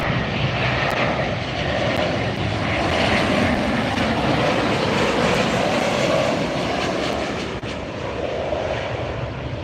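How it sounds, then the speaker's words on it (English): A Southwest airliner taxiing near the runway at LAX, its jet engines giving a steady, loud, broadband roar that holds without a break, with no voices. "Another Southwest taxiing up."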